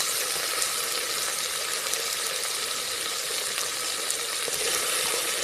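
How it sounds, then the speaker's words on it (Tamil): Potatoes frying in hot oil for a brinjal tamarind curry, a steady, dense sizzle that holds at an even level throughout with no voices. "வறுக்கணும்"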